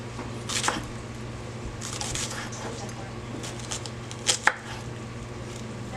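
A kitchen knife slices through food on a cutting board, with a few soft scattered cuts and two sharper clicks near the end over a steady low hum, close by and fairly quiet.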